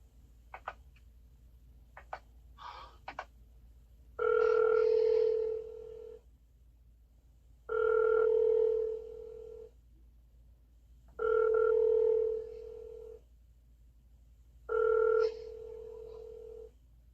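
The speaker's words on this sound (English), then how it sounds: "She types in her home number slowly and hits call, lifting the phone to her ear again. While the phone rings" A telephone number is dialed with a quick run of beeping tones, followed by four long ringback tones spaced evenly with pauses between them, fairly clear and close.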